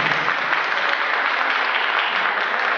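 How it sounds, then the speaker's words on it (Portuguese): Audience applause for a musical trio at a televised Santa Bárbara singing program, a dense steady crowd clapping that stays even and moderately loud throughout, with no voices over it. "recebendo aplausos de nosso povo"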